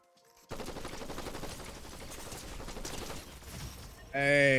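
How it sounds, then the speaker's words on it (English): Rapid machine-gun fire in Fortnite, a dense, steady burst of shots that starts abruptly and runs for several seconds close and loud, ending in a tonal game sound. "Who else is shooting at us?"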